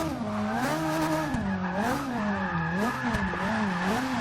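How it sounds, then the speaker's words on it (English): A slammed Ferrari 458 Italia drift build in Forza 6 howls through a drift, its V8 engine note rising and falling in repeated sweeps under continuous tire squeal, loud and close with no talk. "See if we can get some drifts happening here."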